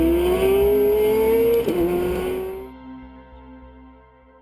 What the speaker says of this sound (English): This is a 2009 Ferrari 430 Scuderia.